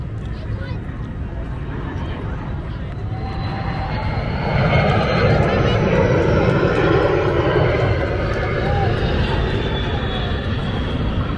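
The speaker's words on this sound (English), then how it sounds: "See the airplanes?" Airplanes at an airshow drone steadily at first, then the engine roar swells louder about halfway through and holds there. Faint voices sit under the noise.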